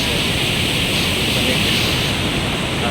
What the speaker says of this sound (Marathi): आपण जो पाठीमागं बघतोय तो आपल्या तालुक्यातला रामतीर्थ धबधबा